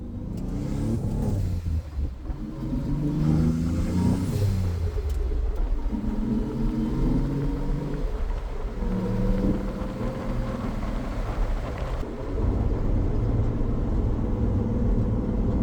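Nissan 300ZX Z31 on a test drive after a clutch install, a steady engine drone and road rumble from inside the car with gear changes and shifting revs, no talk.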